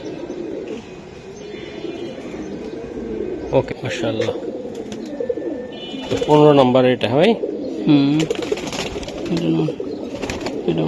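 Old-breed Sabchila-line pigeons coo close by, low rounded calls rising through steady chatter, with someone talking over them.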